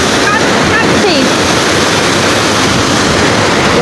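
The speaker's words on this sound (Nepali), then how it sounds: "झर्ना नाइस तपाईँहरूले प्रशस्त रूपमा देख्नुहुनेछ बिग झर्ना" A big mountain waterfall near the Muktinath Mahadev temple roars as a dense, unbroken wash of rushing water, loud and close, drowning out everything else.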